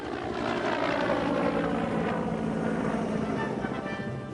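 A CH-53E helicopter's engine and rotor drone steadily at a moderate distance, a low continuous whirring hum with no voices.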